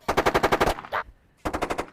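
A battlefield simulator fires machine-gun bursts made by tiny gas explosions rather than bullets, with a rapid, loud string of about eight sharp reports, a lone shot, a pause, then another quick burst.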